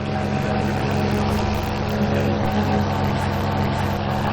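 A paramotor's small engine runs close by in a steady buzzing drone with a dense layered hum and no pauses, loud throughout.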